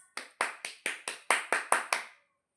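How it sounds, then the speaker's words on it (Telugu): Happy claps: eight crisp hand claps close by, struck in an even, steady rhythm about a quarter-second apart, then stopping into silence. "happy claps"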